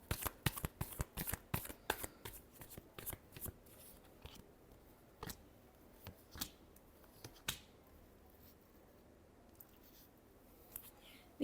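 Tarot cards are shuffled close by, a rapid run of crisp riffling snaps at first, then slower scattered flicks and taps with quiet gaps between.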